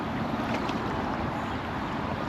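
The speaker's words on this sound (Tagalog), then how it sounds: "dahil sa lakas ng hangin" Strong wind blows across a boat out at sea, a steady, loud roar of buffeting air and wind noise that fills the whole stretch without a break and with no voices.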